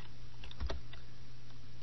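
A few quick keystrokes tapped on a computer keyboard while entering spreadsheet data, soft clicks close by in an otherwise quiet room.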